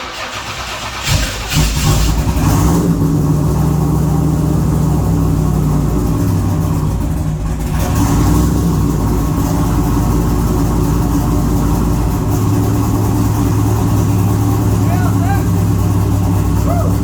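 A turbocharged LS V8 in a Holden long-roof starts cold after a gearbox refit, catches after a brief crank and runs loud and close with a steady idle and shifting revs.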